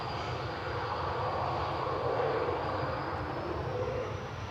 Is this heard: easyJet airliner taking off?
yes